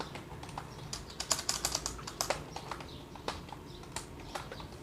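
Keys clatter on a computer keyboard while HTML code is typed during a web development lesson, a burst of quick irregular clicks and taps of varied loudness, close to the mic with no voice.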